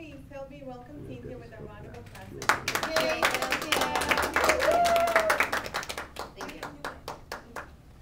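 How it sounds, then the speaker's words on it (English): A room audience claps warmly to welcome a speaker named Cynthia. A brief voice comes first, then applause builds quickly, holds steady, and thins out into scattered claps. "Please help me welcome Cynthia with a round of applause"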